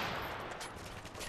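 A Dragunov rifle firing rapidly in a shooter game, a dense, loud run of gunshots packed tightly together across a brief moment, with no talking.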